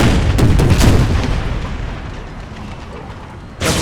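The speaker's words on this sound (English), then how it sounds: "Classic shrapnel shot. Always good." Artillery shrapnel shells bursting in the air during an Empire: Total War mod battle: a dense roll of loud booms and crackling blasts that fades into a rumbling tail, then a fresh sharp burst right at the end.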